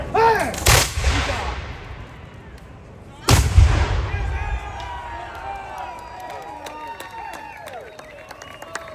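Musket volleys fired by a line of soldiers at a 250th-anniversary Revolutionary War reenactment in Charlotte: two loud, booming blasts about three seconds apart, each trailing off into echo and crowd noise.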